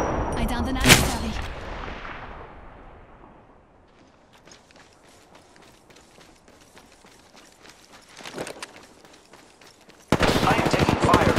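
Gunfire in Apex Legends: a loud close shot and burst at the start, then a long run of rapid weapon fire and mechanical clicks, ending in a dense loud barrage.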